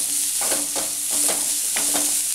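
Sliced shallots fry in a pan under a constant close hiss, while a spoon scrapes and stirs through them in four or five distinct strokes.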